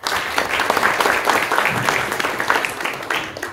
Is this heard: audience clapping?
yes